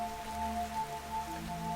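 Steady rain falls in a video game scene outside a palace, a soft, even patter with no voices, accompanied by faint sustained musical tones.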